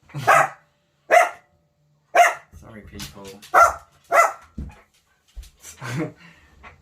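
An old dog barks indoors, several loud separate barks in an irregular series, with a person speaking briefly between them.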